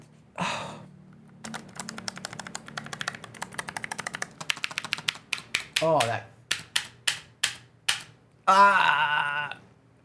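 Typing on a Keychron K17 Pro mechanical keyboard with dry, unlubricated, scratchy keys. Close, rapid keystrokes come in uneven bursts, with a few sharper, louder clacks and brief pauses between runs.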